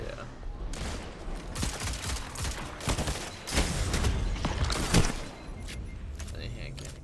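Rapid hand cannon gunfire in the video game Destiny, with bursts of sharp shots and impacts throughout, heard under ongoing conversation.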